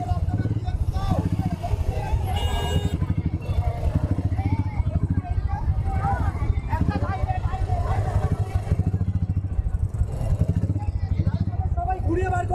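A dense crowd murmurs at the Kolkata bikers festival on Republic Day, while motorcycle engines idle and rev steadily nearby throughout, with people talking close by.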